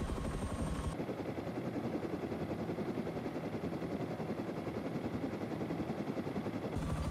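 An attack helicopter in a video game flies close and loud, its rotor producing a fast, steady chopping thrum that holds for the full stretch with a high engine whine over it.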